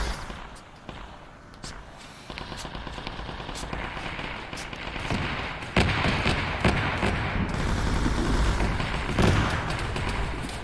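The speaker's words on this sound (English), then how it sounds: "They're shooting from the front again." Sustained gunfire in the military shooter Arma 3, with rapid automatic bursts and sharp shots coming from the front, getting louder and denser over time amid a busy battlefield din.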